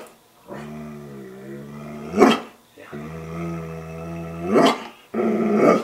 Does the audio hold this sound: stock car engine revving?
no